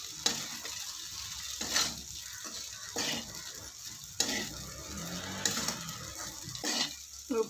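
A spoon stirs and scrapes sabudana khichdi with salt and crushed peanuts in a pan, in repeated strokes over a soft steady sizzle, close up and with no voices.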